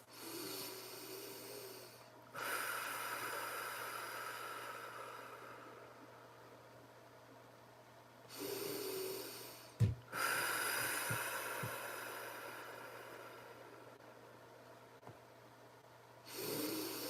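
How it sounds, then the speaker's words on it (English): Three slow, deep cleansing breaths drawn in through the nose and let out through the mouth, each a long soft airy rush of moderate loudness that swells and fades, alone with no talking. "Let's drop into circle with 3 cleansing breaths."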